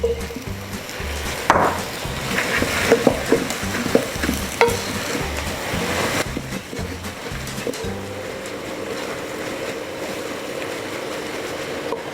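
Sausage going into a gumbo pot for chicken, shrimp and okra gumbo, sizzling steadily in the hot roux while a spoon stirs and scrapes with knocks and clatters throughout, then a calmer frying hiss toward the end.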